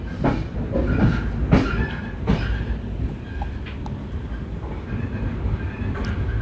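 Passenger train running on the Podanur–Palakkad line, steady rumbling wheel noise with rhythmic clickety-clack and a few sharp rail clatters, heard close from on board throughout.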